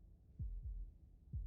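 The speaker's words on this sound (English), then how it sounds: "That was the sound of a heartbeat, followed by another, and another." A video game heartbeat thumps low and muffled, with about three dull beats at uneven gaps over faint background hum. There is no speech.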